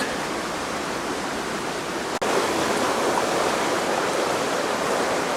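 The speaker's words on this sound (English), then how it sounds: "the sound of falling water" Falling water rushes steadily in Black Dragon Pool Park, Lijiang, China, a dense continuous roar close by, with a brief dip partway through.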